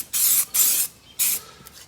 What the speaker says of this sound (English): I was starting to spray